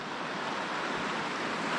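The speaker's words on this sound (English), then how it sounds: "here's the raging river" Steady, broadband rush of a raging river in full flow, continuous and fairly loud with no voices, its churning water noise filling the scene evenly throughout.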